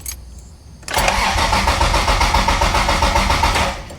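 A stock MK3 Supra engine on a standalone ECU cranks briefly, then catches and starts, settling into a loud, steady running rumble close by.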